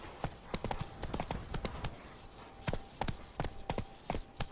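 Hooves of the horse Roach in The Witcher 3 clip-clop in an irregular trotting rhythm, close and crisp, with sharp individual strikes.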